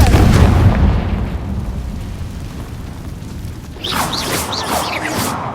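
A Confringo spell explodes in the Hogwarts Legacy video game with a loud, booming blast that rumbles away over a few seconds, followed by a crackling, sparkling magical shimmer.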